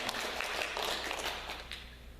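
A Presbyterian church congregation applauds during a Sunday service marking the church's 40th anniversary, steady dense clapping from many hands that fades slightly toward the end.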